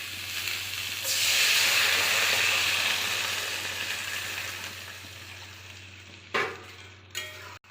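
Water poured into a hot frying pan holding bottle gourd stems sets off a loud, sudden sizzle and hiss that slowly fades into steady simmering, with a couple of sharp clinks near the end.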